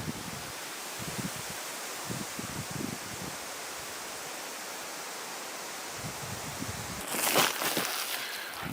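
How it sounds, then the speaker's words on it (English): Wind blowing through trees on a windy day at an off-grid cabin site, a steady broad rushing hiss with faint rustling and a stronger gust near the end, no talking. "So it is a windy day today."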